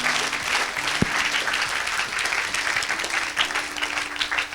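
An audience applauding for Jesus at an evangelistic church gathering, a sustained dense wash of clapping that stays loud and even throughout, with a brief sharp knock near the start.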